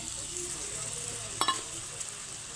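Cabbage cooking in a hot pan as a little water is added, a steady close sizzle with a brief sharp burst of spitting and a light clink from the pan midway.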